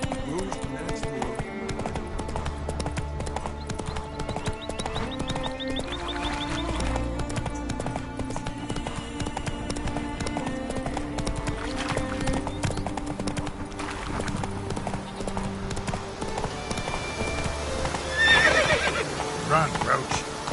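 Roach, the horse in The Witcher 3, gallops with rhythmic hoofbeats and a whinny, under game music and character voices talking.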